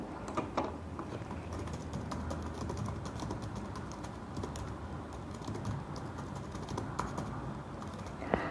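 Computer keyboard typing while entering chart and axis titles in Excel, a steady stream of close, quiet key clicks with no talking.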